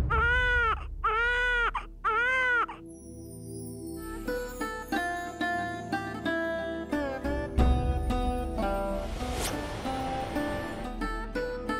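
A child cries in three rhythmic wailing bursts, close and loud, before dramatic orchestral music with sustained tones takes over.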